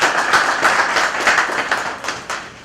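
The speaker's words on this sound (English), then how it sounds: "Another round of applause." An audience claps at a formal security awards event, a scattered, moderately loud patter of hands that runs steadily for a few seconds, then thins near the end.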